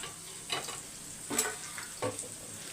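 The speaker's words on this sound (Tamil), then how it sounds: "கரணக்கிழங்கு வறுக்க அப்படியே சிம்மில் வச்சு வறுத்துக்கலாம்" Elephant foot yam pieces frying on a low flame, a soft steady sizzle broken by three brief stirring scrapes, quiet and close.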